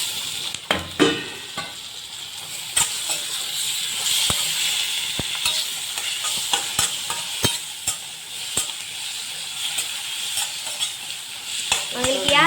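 Tomatoes frying in hot oil in a home kitchen, a steady hissing sizzle punctuated by sharp clicks and scrapes of a spoon stirring the pan, close and fairly loud.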